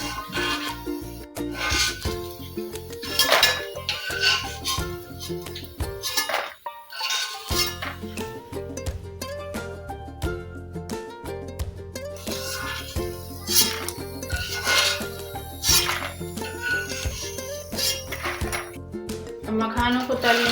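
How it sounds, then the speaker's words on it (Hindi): Edible gum roasting in a pan while a spoon stirs it, bright metallic clinks and scrapes repeating over a soft background, with someone talking over much of it. "चम्मच से चलाते जाएंगे।"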